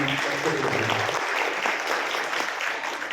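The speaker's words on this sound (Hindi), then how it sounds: "एक बार प्लीज जोरदार तालियां आपने।" Audience applause at a Jabalpur samagam lecture hall, a dense wash of many hands clapping steadily for about three seconds, with a brief voice heard at the very start before the clapping carries on alone.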